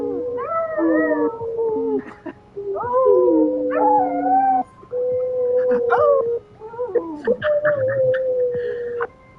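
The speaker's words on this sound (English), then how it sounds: "he howls for tacos all the time" A Chihuahua howls in long, wavering, high-pitched bursts, close and loud. Several howls rise and fall with short pauses between them, and a few yips are mixed in.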